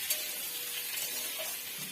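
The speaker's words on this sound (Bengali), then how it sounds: "আমি এদিকে এটা ভাজছি" A soft, even sizzle of food frying in a pan, faint and continuous with no talking over it.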